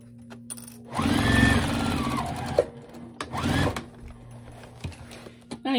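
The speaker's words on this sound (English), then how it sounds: "just stitch it down, same seam allowance" A sewing machine runs in two short bursts, a longer one and then a brief one, stitching the squared corners of a car trash bag with a back stitch. The machine is fairly close, with light handling sounds between the bursts.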